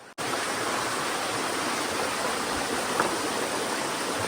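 Steady rushing water of a mountain stream in the Konkan region of India, a continuous broadband wash that stays loud and even throughout with no voices.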